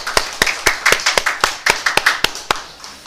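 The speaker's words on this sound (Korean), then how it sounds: "모든 영광을 하나님께 돌리는 박수로 올리겠습니다" A church congregation at a Thanksgiving worship service claps in a brief burst, roughly a dozen sharp, distinct claps in a fairly steady rhythm, close and fairly loud with no talking.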